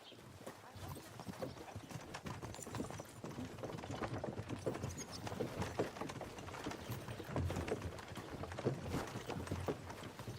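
Steady clip-clop of video game horse hooves trotting along at a brisk, even rhythm, fairly close, continuing throughout without pause, in Kingdom Come: Deliverance 2.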